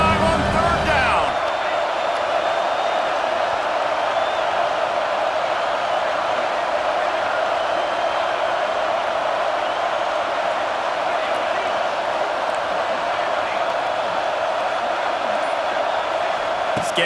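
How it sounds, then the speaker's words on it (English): A roaring stadium crowd in EA Sports College Football 26, Buckeye fans loud on third down, a dense, steady wall of cheering that holds at full level throughout after a brief quieter moment at the start. "The Buckeye crowd alive on third down."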